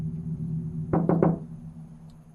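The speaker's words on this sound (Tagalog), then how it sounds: "Bakit may kumakatok sa cabinet?" Three quick, close knocks strike a wooden cabinet, sharp and hollow, rising over a low steady hum in an otherwise quiet room.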